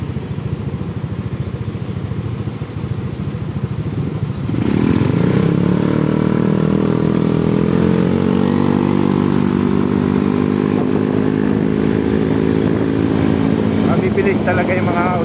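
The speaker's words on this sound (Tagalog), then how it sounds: "Mabibilis talaga yung mga automatic na motor pagdating ng unang arangkahan." Automatic scooter-type motorcycles accelerating in congested city traffic on a busy avenue, a loud rising engine roar building suddenly after a quiet idle stretch and holding steady, close to the listener, with talk around it.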